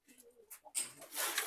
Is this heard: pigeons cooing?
yes